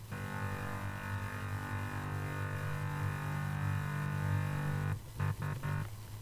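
A thick, low synth bass drone from the Massive synthesizer with a filtered, buzzy tone, held steadily for several seconds before cutting into a few short stuttering bursts near the end.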